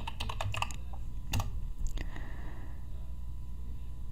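Keys clatter on a computer keyboard in quick bursts of close, crisp taps, then pause before a few scattered strokes amid quiet room tone.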